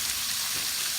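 Salmon belly and vegetables are stirred in a frying pan, a brief, even sizzle that stays loud and close throughout with no voices.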